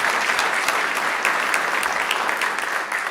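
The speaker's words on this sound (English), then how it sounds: "You can clap." Loud, close audience applause rings through a state capitol chamber during the Nevada State of the State address, a thick continuous patter of many hands with slight swells, no speech over it.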